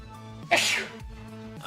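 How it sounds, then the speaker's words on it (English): A single sharp sneeze bursts out over faint background music during a live stream, brief and close to the mic. "I'm about to sneeze."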